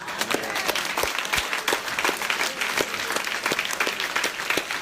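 A church congregation applauds to acclaim Jesus during a Guadeloupe service, a steady, dense patter of many hands clapping continuously at moderate distance with no break.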